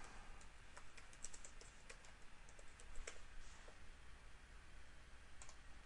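Quiet, irregular clicks of typing on a computer keyboard while entering a map title in ArcMap, the keystrokes faint and scattered over a steady low background hum, with no talking.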